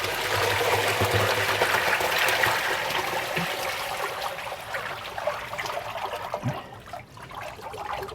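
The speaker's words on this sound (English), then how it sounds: "So we're going to get a big purge of water, and hopefully we'll get a load of pond leaves and stuff come out." Water and pond debris gush out of koi pond filter pipes in a steady, loud rushing purge that continues for several seconds, then gradually eases into a splashing, trickling flow.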